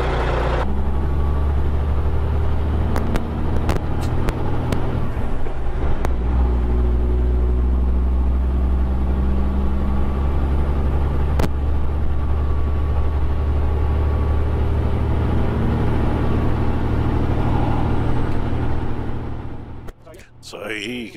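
A Western Star 4900 B-double truck hauling grapes climbs up from a vineyard, its diesel engine a heavy steady low rumble with clicks and rattles, heard from inside the cab, with someone talking over it.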